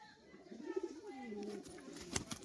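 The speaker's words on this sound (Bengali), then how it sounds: "এটা মাদি পায়রা, খুবই অ্যাগ্রেসিভ পায়রা।" A female pigeon of a high-flying breed, silver-tailed, gives a soft rising and falling coo close by, followed by a couple of brief sharper sounds.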